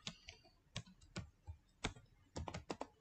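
Name being typed on a computer keyboard: a quiet, irregular run of separate key clicks and taps, spaced unevenly over a few seconds, with no voices.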